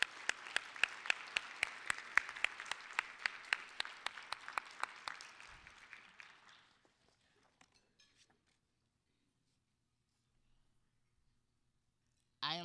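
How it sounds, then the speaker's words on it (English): An audience at a student leadership banquet applauding, with dense clapping that holds steady and then thins to silence after about six seconds, followed by a brief sound at the very end. "I'd like to give them a round of applause."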